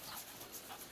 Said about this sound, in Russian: Ну, хорошая собачка.